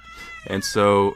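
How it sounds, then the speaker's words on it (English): A pet cat gives a short, close, loud meow with clear harmonic tones, preceded by brief human speech. "sorry about my cat, he's a little baby."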